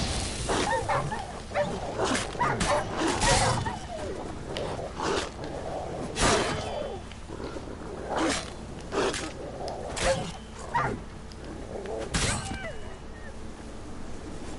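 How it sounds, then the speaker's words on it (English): Rabid wild dogs bark and snarl in The Witcher 3, sharp repeated barks and yelps coming in bursts amid combat noise, with someone talking over them. "Rabid dogs."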